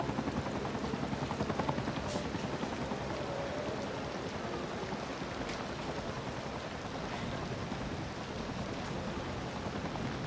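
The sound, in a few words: helicopter flying to hospital helipad in video game Cities: Skylines 2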